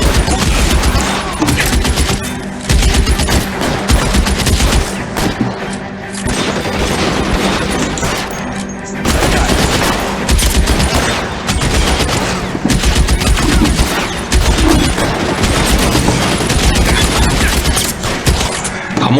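Dense, loud gunfire rattles almost nonstop in L.A. Noire, rapid bursts and booms overlapping throughout.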